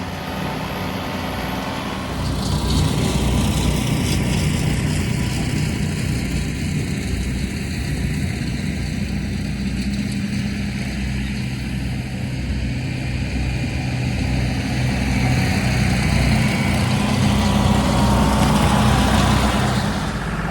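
A John Deere 2038 tractor bush hogging in a field, its engine running loud and steady throughout with a constant droning rumble and mower whine, no talking.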